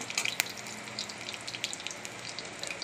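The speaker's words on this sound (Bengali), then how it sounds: "কাঁচা লঙ্কা সর্ষে" Oil crackles and sizzles steadily as green chillies and mustard seeds fry in a kadai, with sharp little pops scattered throughout, heard close up.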